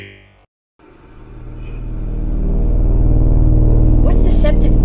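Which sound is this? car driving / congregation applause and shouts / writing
car driving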